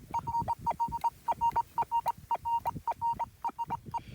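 A Rutus Alter metal detector swept along an old dirt road gives a steady, pulsing electronic tone, a string of short evenly spaced beeps repeating rhythmically, close and clear with faint handling noise beneath.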